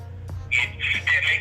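Electronic phone ringtone chirping in three short repeated bursts over a low hum, fairly close and clear.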